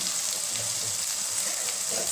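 Tomatoes frying in a pan with a little salt, a steady close sizzle and crackle running without pause.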